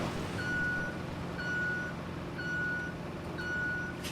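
Four evenly spaced reversing beeps from a truck in the road-building game Roadcraft ring out at about one-second intervals over a steady low engine rumble, with no talking.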